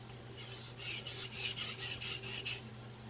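Victorinox 8-inch Swiss steel chef knife sharpened on a Chosera whetstone: a steady series of about eight rasping strokes in even rhythm, close and clear, with a low hum beneath and no talk.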